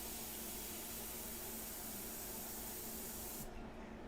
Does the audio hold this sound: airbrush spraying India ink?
yes